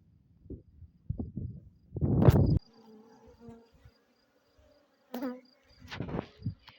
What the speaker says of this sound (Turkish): bu arı bizim arı